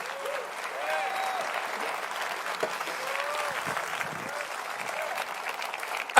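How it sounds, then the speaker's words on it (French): Congregation applauding in a French-language church service, a moderate sustained wash of clapping with faint voices and cheers woven through, fairly distant and even until an abrupt end. "J'aimerais que vous donniez 10 secondes d'applaudissements au Seigneur."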